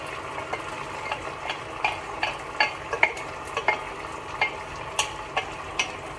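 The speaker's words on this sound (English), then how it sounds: "So then we're gonna add in all our tofu and all of our chili oil. So chili oil goes in, with all the peppers." Tofu and chili oil with peppers sizzling in a hot pan for mapo tofu, a steady bright sizzle broken by regular scraping taps of a spatula stirring, close and fairly loud, without any voices.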